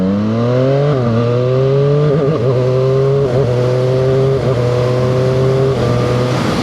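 A Zontes 703R motorcycle engine droning loud and steady while riding, its pitch rising smoothly through the gears with brief dips at shifts and a constant rush of wind noise, with no one talking.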